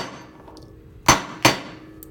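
Two sharp metallic clangs of a hammer striking metal dome forms while shaping a cuff bracelet, spaced about a third of a second apart over a quiet workshop background.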